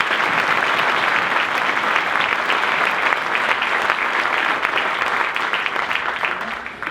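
A comedy show audience claps loudly for a man named Manuel, producing a dense, even burst of applause that lasts several seconds and then starts to fade.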